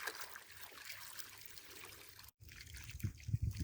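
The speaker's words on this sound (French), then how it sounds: "Je mets un arrosoir entier, hein, minimum." Water poured from a watering can onto a newly planted tree, a low close trickling and splashing into a small basin at its foot, growing heavier toward the end.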